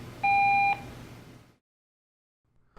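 A single clear voicemail tone from a Mitel Clearspan unified messaging system, a steady two-pitch electronic beep lasting about half a second over faint line hiss, followed by silence.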